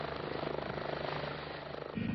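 A rescue helicopter dispatched for an emergency at the summit of Mont Blanc du Tacul's neighbour Mont Maudit flies overhead, a steady rotor thrum with rapid pulsing, faint and distant, continuous throughout.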